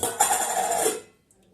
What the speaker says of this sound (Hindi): इसमें हम गर्म पानी ऐड कर देंगे